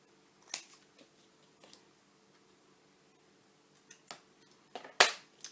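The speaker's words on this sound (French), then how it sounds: "je vais couper mes angles." Scissors snipping the corners of paper for a handmade recipe album, a few sparse crisp cuts close by in a quiet room, the last one loudest.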